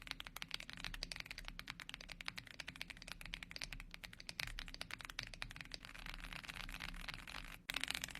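Rapid steady typing on an AULA F75 mechanical keyboard with OG Reaper switches: close, even, muted clacks in a quick unbroken run, with a brief pause near the end and no voices.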